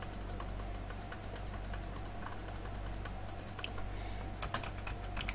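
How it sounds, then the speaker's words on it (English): Rapid typing on a computer keyboard during photo editing, with a steady run of crisp key clicks and occasional shortcut presses, close and fairly quiet with no voices. "You can just hit the letter B on your keyboard to go for your brush."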